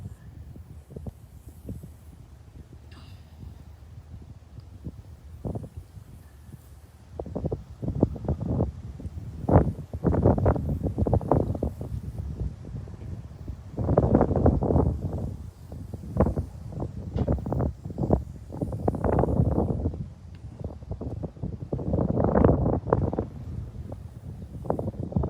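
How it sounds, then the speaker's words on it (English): Wind gusts across a golf course at a city championship, buffeting the microphone in loud, uneven surges that rise and fall over about half a minute, with no talk. "Wind picking up a little bit here."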